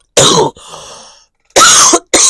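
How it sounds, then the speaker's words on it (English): Three loud, close coughs directly into a microphone, two sharp bursts separated by a softer raspy breath and a pause, with no other sound between them. "coughing right into the microphone"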